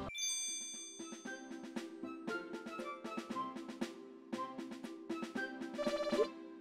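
A chiming bell rings in the Harvest Moon Animal Parade video game, with bright tinkling tones struck in a steady repeated pattern over tuneful game music, no voices present.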